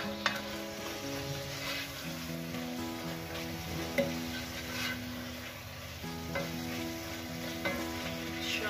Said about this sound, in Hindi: इसकी आंच को फुल करके हम थोड़ी सी इसकी अच्छी सी और भी भुनाई कर लेंगे